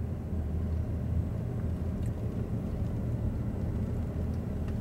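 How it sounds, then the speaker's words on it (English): Adomani hybrid Ram 1500 pickup driving down the road, a steady low cabin rumble of road and drivetrain noise throughout with no talk. "As you can see, we're driving down the road now."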